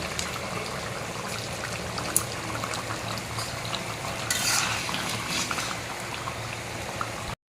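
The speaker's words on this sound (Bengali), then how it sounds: "বাটা গরম মশলা দেওয়ার পরে একটু 2-1 মিনিট ফুটিয়ে নেব" A meat curry bubbling steadily in a pot after ground garam masala goes in, a continuous soft boiling hiss with a brief louder splash or stir partway through.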